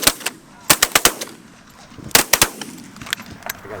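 Rapid gunfire crackles during a bird hunt. Several quick sharp blasts come in tight bursts, with a short pause between volleys and faint voices underneath.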